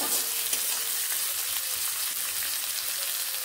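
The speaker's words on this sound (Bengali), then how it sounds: "পেঁয়াজগুলোকে আমি ভেজে নিচ্ছি।" Steady, dense sizzling of onions frying in a pan, a continuous crackling hiss with no voices, close and fairly loud throughout.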